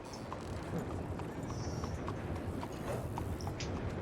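Horse hooves clip-clop steadily on a street in the Saint Denis chapter of the video game Red Dead Redemption 2, with a regular trotting rhythm over low ambient city noise.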